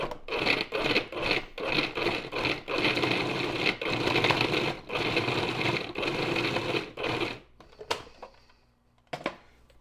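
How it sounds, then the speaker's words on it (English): A food processor pulses and grinds chunks of beef fat for tallow in repeated short loud bursts with brief gaps, then stops, leaving a few faint clicks. "So we'll go ahead and just put it all in the food processor."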